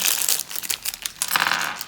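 Close, loud crinkling of a plastic bag holding LEGO Disney 100 minifigures, in irregular bursts of crackling rustle, with no voices.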